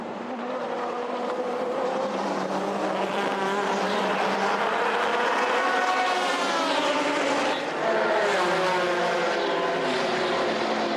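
Maserati and Ferrari GT race cars roar continuously during the opening minutes of the first FIA GT race of the 2005 season at Monza, a loud, sustained engine howl with shifting pitch as the cars pass.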